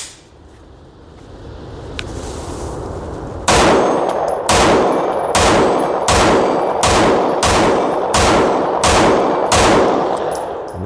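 An HK VP9 pistol fires a rapid string of about nine loud, evenly spaced shots after a brief quiet lead-in, each crack ringing out over an outdoor range.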